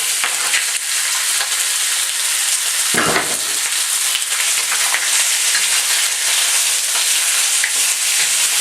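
Turkey pieces sizzle and fry in hot oil in a pan as a stir fry, a loud continuous crackling hiss with a brief clatter of stirring near the middle.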